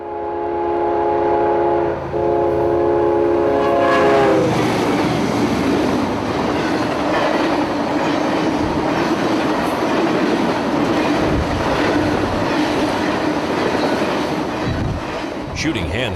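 A piggyback intermodal freight train, Q174 northbound, races at full speed past a logging road crossing in a Georgia pine forest. A loud horn blast opens, then a close, roaring, steady rush of wagons with rattling clatter continues throughout.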